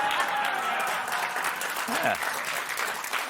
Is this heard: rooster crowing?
no